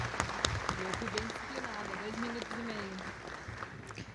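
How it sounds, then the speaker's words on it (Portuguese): Steady audience applause fills a legislative assembly hall in Porto Alegre, with a voice speaking over the clapping. "Salve de palmas para o nosso ex-presidente Adão Vilaverde."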